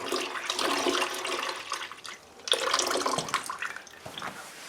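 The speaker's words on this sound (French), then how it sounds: "c'est aussi facile que d'alimenter la pompe pour avoir de l'eau directement à la sortie" Water rushes steadily from a pump-fed faucet at a winter chalet, a close, full gushing flow that dips briefly midway before surging again, with no voices.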